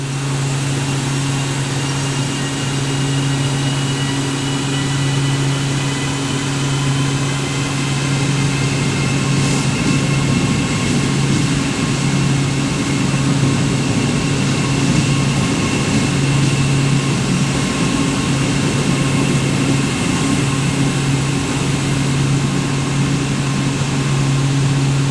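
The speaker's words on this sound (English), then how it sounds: "made it to Britomart station just in time to watch AM 849 leaving with the 14:38 service" Auckland AM class electric train AM 849 departs Britomart station, giving a steady, even electric hum with a tonal whine that holds at the same level throughout, with no voices.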